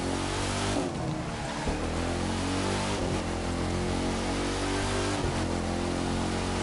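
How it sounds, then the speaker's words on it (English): A car engine in a PS4 racing game, a Dodge, roars continuously and loudly, with a steady low rumble and a few shifts in pitch as it revs, with no talking. "Listen to the engine when she starts."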